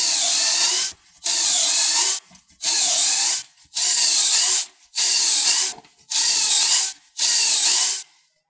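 A power drill bores pocket holes into wood in seven evenly spaced bursts, each about a second long, loud and close, with short pauses between them.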